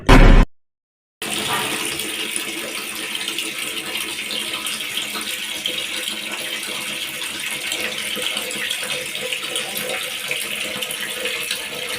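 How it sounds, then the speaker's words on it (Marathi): Contaminated, sewage-tainted water gushes steadily from a municipal corporation tap in Solapur, a loud continuous rushing flow that starts after a brief silence and runs unbroken to the end. "सोलापुरातील राजेश कुमार मीनानगर परिसरात कॉर्पोरेशनच्या नळांना चक्क गटारीचं पाणी येत आहे"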